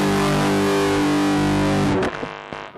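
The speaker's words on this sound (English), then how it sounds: "I do like the NUX Fuzz sound." Electric guitar through the fuzz effect of a NUX MFX-10 multi-effects unit, a thick sustained distorted chord ringing loud for about two seconds before being cut off with a few choppy muted strums.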